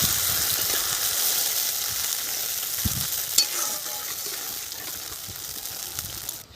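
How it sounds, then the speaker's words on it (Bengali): Browned onions frying steadily in oil in a pan, a loud close broadband sizzle with occasional stirring clicks and no voices, as mustard paste goes in for a Bengali fish curry. "এই মুহূর্তেই আমি সর্ষে বাটাটা ঢেলে দেব।"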